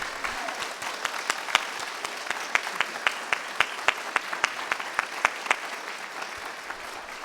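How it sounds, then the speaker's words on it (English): Panel audience clapping for a team in a hall, a dense, even wash of applause with a few sharper individual claps standing out, continuing for several seconds at moderate distance. "let's just give them a round of applause."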